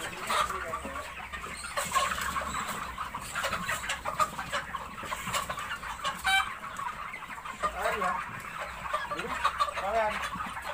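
Young roosters (ayam pejantan) cluck and crow nonstop across a poultry farm, a dense flock chorus with scattered sharper calls, moderately loud and steady, with occasional faint voices in the background.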